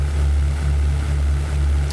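Steady, loud drone of a P-51B Mustang's 12-cylinder V-shaped piston engine in the 1998 flight game European Air War, a continuous low throbbing hum with no talk.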